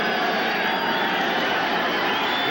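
Steady roar of a stadium crowd at a Canadian football game between the Stampeders and Texans, a dense continuous wash of massed voices filling the whole clip without pause.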